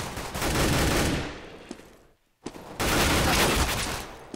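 Automatic rifle sprays in a Counter-Strike match on de_cobblestone, two dense bursts of rapid gunfire separated by a short silent gap, close and loud.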